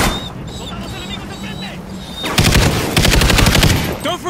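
Loud, sustained automatic gunfire bursts in Call of Duty: Ghosts, rapid and close, following a stretch of quieter combat ambience with shouted voices in the background.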